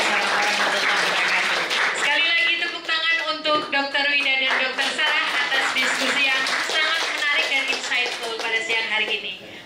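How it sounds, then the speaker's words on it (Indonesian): Audience applause for a doctor at the close of an expert lecture on caesarean scar defects, with scattered clapping running underneath a speaking voice that dominates most of the stretch. "Sekali lagi tepuk tangan untuk Dr."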